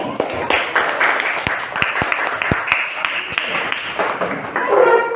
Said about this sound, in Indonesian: Aplaus buat teman kita yang satu ini.